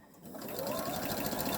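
A sewing machine stitches apron fabric in a steady, fast, close whir that ramps up from a quiet start and runs continuously without pause.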